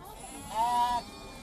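Sheep bleating, a single short bleat of about half a second, moderately close, over a quiet background hum.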